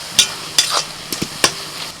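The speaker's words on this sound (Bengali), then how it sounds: "পেঁয়াজটা ভাজতে ভাজতে হালকা কালার আসতে শুরু করেছে" Onions sizzle softly in oil, punctuated by several sharp scrapes and clinks of a spoon stirring in the pan.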